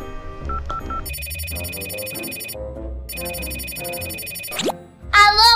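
A telephone rings in a playful children's detective scene, with a repeated electronic ring tone sounding in two bursts over light background music and sound effects, loud and close.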